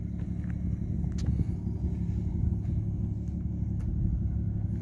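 An Audi B8.5 S4 with DSG gearbox and CTS intake fills the scene with a loud, steady engine rumble from inside the car, carrying a constant droning whine with occasional faint ticks over it.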